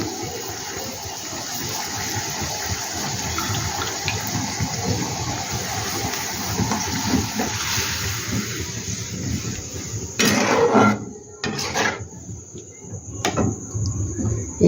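Potato fingers go into a pan and cook, giving a steady close sizzle with a few sharper, louder bursts of crackling near the end.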